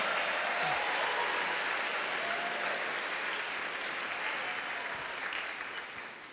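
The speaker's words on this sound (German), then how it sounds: "let's just raise our voices and applaud" An audience at a worship camp applauds in a broad wash of clapping that stays steady, then slowly tapers off toward the end, a little distant.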